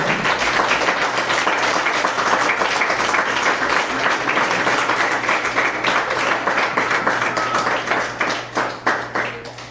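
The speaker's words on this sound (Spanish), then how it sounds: "Dale una ofrenda de palmas al Señor Jesucristo" A church congregation claps together in a sustained, dense round of applause that stays loud and steady, then thins into separate claps toward the end.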